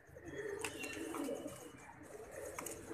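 Breeder pigeons cooing in a steady series of low burbling calls over a faint ambient background.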